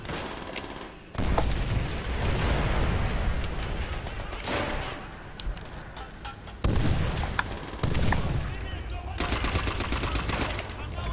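Sniper and other gunfire in the video game Left 4 Dead crack in repeated bursts and bangs with dense game noise throughout.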